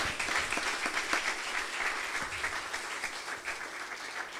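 A church congregation applauds together in sustained, moderately loud clapping that holds evenly from start to finish, with no voices over it.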